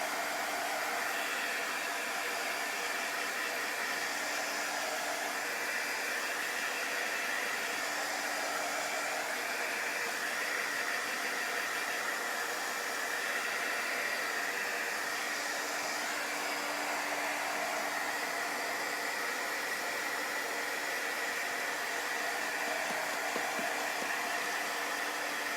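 A hair dryer blows steadily to dry chalk paint on a wooden box frame, a constant loud whooshing hum that holds unchanged from start to finish with no pauses.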